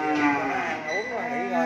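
Cattle on a cattle farm in Vietnam mooing in a long, loud, close bellow that wavers in pitch, with a second drawn-out moo following almost without pause.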